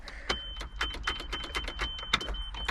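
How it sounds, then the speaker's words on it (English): A tractor's starter cranks in a fast, steady rhythmic whirr, repeatedly turning over without the engine catching, with a faint whine above. "tractor won't start."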